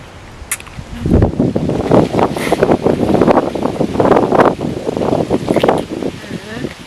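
Wind gusts and roars outdoors against the microphone for most of the clip, loud and continuous, rising after the first second and holding steady with rustling texture.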